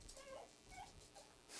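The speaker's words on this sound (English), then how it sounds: "What do you want, dog?" Dog in the Ark survival video game giving several soft, high whimpers, short pleading whines spaced apart against a quiet background, faint and close, with no talking.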